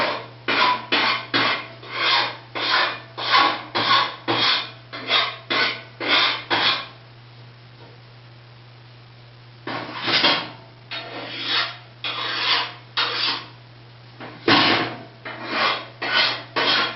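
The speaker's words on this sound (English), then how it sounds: "I'm going to run over and I'm just going to lightly file this edge" A metal file scrapes lightly along an edge in a steady series of short, rhythmic strokes with brief pauses between runs, close and clear over a faint constant hum.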